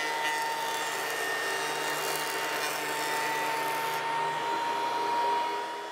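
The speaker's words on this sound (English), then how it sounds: "I'm going to have to run these through the jointer so that I can glue them together with a very nice seam." A jointer whines steadily at close range as scrap wood boards are run through it, a continuous loud mechanical drone with no talking over it.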